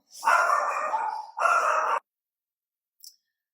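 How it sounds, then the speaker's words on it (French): A dog barks frantically after spotting a cat, in two long, loud, close bursts followed by silence and one faint click. No one speaks. "le chien a vu un chat passer et qu'il est devenu complètement, fou et hystérique"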